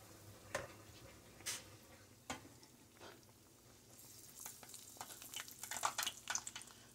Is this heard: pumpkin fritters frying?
yes